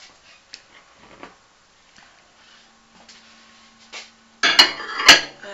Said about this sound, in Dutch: En dan gaat hij even in de magnetron.